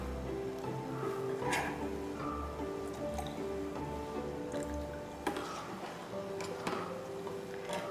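First-extract coconut milk is poured into a batter for Pesaha appam, faint wet squishes and soft drips against a low background hum.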